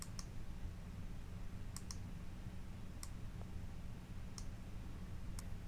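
A computer mouse clicks while items are dragged in software: about five sharp, faint, isolated clicks spaced a second or more apart over a low steady room hum.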